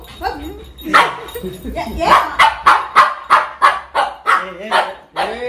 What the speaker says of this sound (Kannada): ಬೀದಿ ನಾಯಿ ಹೋಗಿದೀಯಾ?